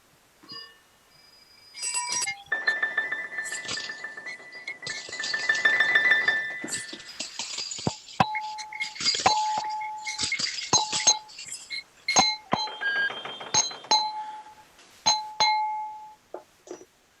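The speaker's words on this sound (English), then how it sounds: "with the sound of bells, we welcome stranger and friend to a time of mindfulness" Bells ring out to open a church service: a series of bright, ringing dings and clangs, some sustained and some in quick single strikes, sounding clearly with no talk over them.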